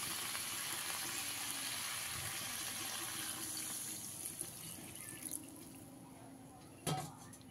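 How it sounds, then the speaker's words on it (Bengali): Water poured into a pot of fish curry made with small morula fish and green tomato, a steady hissing wash of liquid in the first few seconds that thins out, followed by a faint clink. "এবারে এর মধ্যে আমি পরিমাণ মতন জল দিয়ে দেব।"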